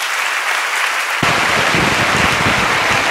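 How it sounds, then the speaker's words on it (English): Audience at a school's silver jubilee celebration breaks into loud sustained clapping after a brief lull, a dense crowd applause filling the hall. "Can we give them another big round of applause?"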